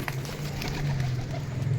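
Local Rajshahi Giribaz pigeons, a pair offered for sale, coo in a low steady hum that runs through the whole short stretch, near and fairly soft, with no talk over it.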